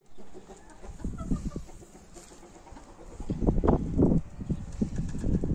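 Hens cluck in a coop, soft scattered calls that build into a louder burst of clucking and rustling near the end, close by with no talking.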